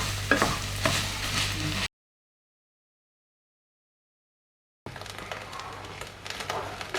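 Minced beef sizzling in a pan for chilli beef tacos as it is stirred and turned, steady frying noise broken by a gap of silence before resuming.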